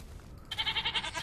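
Goats bleat in Minecraft with the Tekkit / Technic Pack, a short wavering animal call of several quick pulses starting about halfway through, fairly close and alone.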